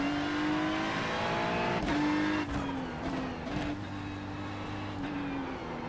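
A race car engine drones steadily in the iRacing sim as the car spins out, with sharp bursts of revving and tire noise breaking the continuous tone, close and loud.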